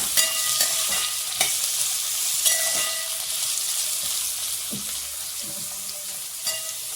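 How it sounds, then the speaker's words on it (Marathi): Finely chopped onion with green chilli frying in a pan for poha, a steady loud sizzle with scraping stirring strokes running throughout, no voices. "आता याच्यात आपण बारीक चिरलेला कांदा टाकून घेऊ। आता हे नीट मिक्स करून घेऊ।"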